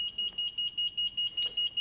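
Fire alarm sounders pulse during a fire alarm panel test, a high electronic tone beeping in regular on-off bursts about four times a second, clear and alone.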